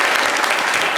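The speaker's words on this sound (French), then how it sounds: "applaudissez pour Raïssa" Studio audience claps for a caller on a live radio show, a brief, loud, dense burst of applause with no talking.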